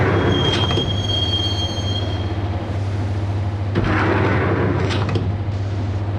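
Game train ride in Max Payne on PlayStation 2, a subway car heading to Roscoe Street Station: a steady low rumble of wheels on track throughout, with high metallic wheel squeals near the start and clattering bursts midway, close and continuous.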